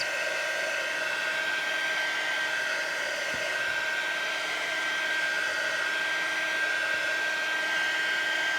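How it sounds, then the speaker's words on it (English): A heat tool blows steadily on flowers crafted from baby wipes, a constant close whooshing hiss with a faint high whine throughout, heating up as it runs; no talking. "As the heat tool gets hotter, you'll see it works a lot quicker."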